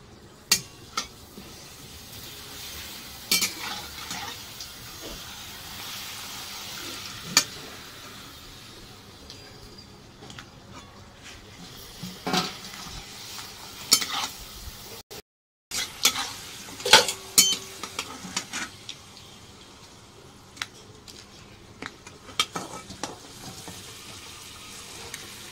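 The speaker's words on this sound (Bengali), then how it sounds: "তো আগে আমি পাঁপড়গুলো ভেজে নেব।" Papad fries in plenty of oil in a wok, a soft continuous sizzle punctuated by sharp clinks and scrapes of a utensil against the pan, with a brief silent gap midway.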